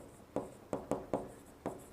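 Pen or pencil on paper during a land survey lesson, heard as five quick, crisp scratching strokes spaced unevenly across two seconds, close and fairly quiet against a soft room background.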